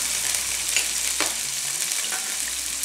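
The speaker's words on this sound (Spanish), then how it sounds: "Ya que tenemos el aceite calentito, echamos el pollo." Chicken, about 250 grams, sizzling as it hits hot oil in a pan, a steady bright crackle with a few louder spits, close and continuous with no talking.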